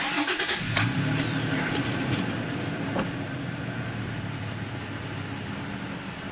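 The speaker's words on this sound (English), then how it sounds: "So I'm going to crank her up." A third-generation Toyota Tacoma engine cranks and catches, settling into a steady idle that stays loud and close, with a few brief clicks early on and no talking.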